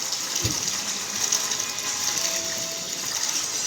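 Water gushes steadily from a hand-pumped tap, a continuous broadband rush with a brief thud near the start, close and fairly loud throughout.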